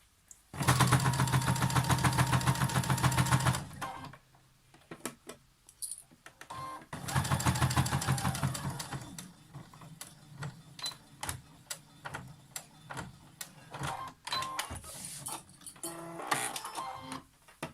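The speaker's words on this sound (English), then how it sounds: "we'll take this to the machine and stitch this down" A sewing machine stitches down a fabric face mask in two bursts of rapid mechanical chatter, the first about three seconds long and the second shorter, separated and followed by scattered handling clicks and rustles.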